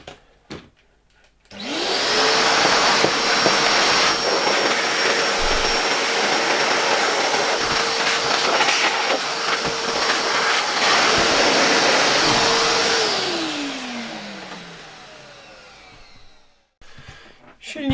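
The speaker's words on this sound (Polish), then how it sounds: "zmienię tutaj rurę w odkurzaczu, tak żeby on dmuchał zamiast wciągać" A Zelmer 268.6 vacuum cleaner with a type 300 motor, running in blowing mode, spins up to a loud, steady high-pitched whine and roar, holds for about ten seconds, then winds down in a falling tone.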